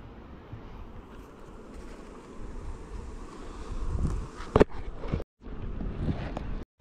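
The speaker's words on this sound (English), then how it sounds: "So all the farm bees are doing alright." Honey bees buzz steadily around a farm hive, a soft continuous drone close to the microphone, with light wind rumble and brief handling knocks and dropouts near the end.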